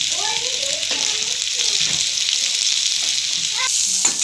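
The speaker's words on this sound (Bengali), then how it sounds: "পেঁয়াজটা দিয়ে ভালো করে আমি ফ্রাই করে নেব" Onions fry in oil with ginger and garlic paste for vegetable momos, making a constant bright sizzle with faint stirring and a few soft tonal sounds over it.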